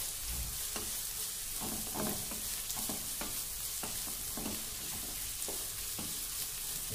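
Mint leaves fry with onions in a pan while making vegetable pulao, a steady close sizzle broken by repeated scraping stir strokes throughout.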